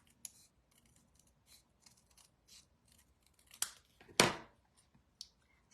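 Scissors trimming stencil material make several short, sharp snips with quiet gaps between them, one louder close cut near the end, in an otherwise quiet room.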